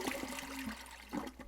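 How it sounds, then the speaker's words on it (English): A toilet flushes with a brief rushing, gurgling swirl of water at close range and no voices. "When you flush a toilet, the sewer pipe takes it to a water treatment plant."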